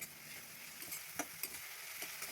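Onion paste frying in a pan for egg curry, a soft, faint sizzle with a few light stirring scrapes spaced irregularly, no talk.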